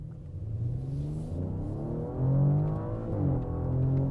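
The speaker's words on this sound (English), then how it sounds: "that fake induction noise is definitely there" A 2021 Audi S6 V6 engine with synthesized induction noise piped through the stereo, a steady low droning hum that swells and rises in pitch as it builds under load from inside the cabin, with no talking.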